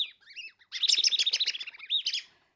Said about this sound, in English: We could have some bird sounds in there.